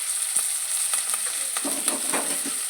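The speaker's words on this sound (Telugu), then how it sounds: "తర్వాత కరివేపాకు వేసామండి." Curry leaves fry in a hot pan with a steady, close sizzle, broken by a few scrapes and crackles as they are stirred, with no talking.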